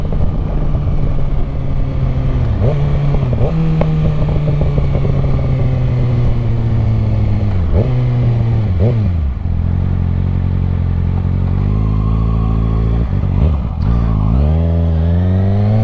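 A 650cc four-cylinder supersport motorcycle being ridden, its engine note loud and close throughout, rising and falling with repeated throttle changes and gear shifts, with no talking over it.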